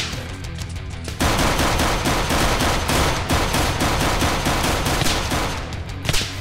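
Rapid automatic gunfire from a Minecraft zombie base defense game, a sustained loud burst of closely spaced shots that begins after a brief quieter lead-in and runs steadily to the end.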